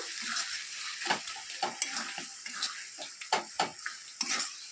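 Sugar is stirred into a simmering tomato chutney in a pan. A soft, continuous sizzle sits under repeated quick scraping strokes that land in an uneven rhythm.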